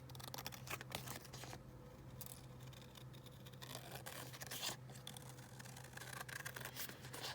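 Scissors snip through paper while clock pieces are cut out, a steady run of close, soft rasping cuts with no talking.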